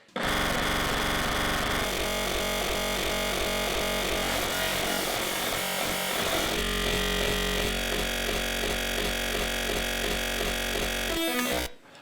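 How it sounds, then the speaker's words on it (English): FM synthesizer tones from two modulated oscillators, a dense, loud, buzzing metallic drone whose pitch and timbre shift abruptly several times over about eleven seconds, then cut off sharply. "you get some pretty crazy noises just by tweaking some knobs, increasing the distance between the two oscillators"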